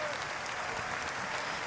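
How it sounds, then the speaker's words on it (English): Speedway Grand Prix crowd in Lodz, Poland, applauding as a fallen rider gets up, a steady distant wash of clapping across the stadium with faint voices mixed in. "Round of applause from the crowd there as he gets to his feet"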